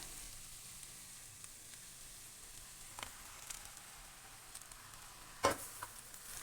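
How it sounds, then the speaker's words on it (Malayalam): Marinated chicken goes into masala in a hot pan for a Kerala-style home chicken curry, making a soft, steady sizzle close by with a few light stirring clicks and one louder clunk near the end. "ഇനി നമുക്ക് മാരിനേറ്റ് ചെയ്ത് വെച്ചിരിക്കുന്ന ചിക്കൻ ഇതിനകത്തേക്ക് ചേർക്കാവുന്നതാണ്"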